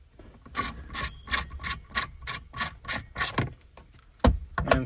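A ratchet with a 7mm socket loosening a bolt inside a 2021–2023 Ford F-150 cabin, about a dozen sharp rhythmic clicking sweeps up close, followed by a clunk.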